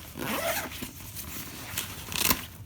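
A luggage zipper is pulled in several quick rasping strokes, close up, with a sharper zip near the end.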